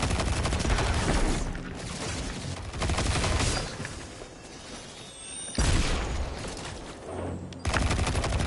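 Rapid gunfire bursts from the video game Destiny 2, loud and dense, with heavy booming weapon blasts and sustained automatic fire broken by short lulls around the middle and near the end.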